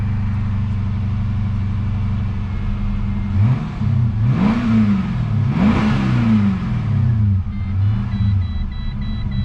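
A Holden SS Commodore engine idles, then revs unevenly several times in rough, surging bursts before settling back to a steady, slightly uneven idle, running rough with a failed alternator.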